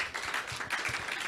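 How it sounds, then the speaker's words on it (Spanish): A church congregation claps in a short burst of uneven, overlapping handclaps that sound fairly close and lively, with no voices on top. "Dale un aplauso al Señor"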